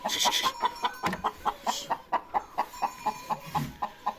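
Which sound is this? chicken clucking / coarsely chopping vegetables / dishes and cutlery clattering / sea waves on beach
chicken clucking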